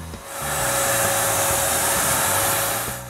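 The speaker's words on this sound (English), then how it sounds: "He sprayed the varnish for most of the second coat." Continuous hissing whoosh of a sprayer applying varnish to wooden planks, steady and loud from start to end.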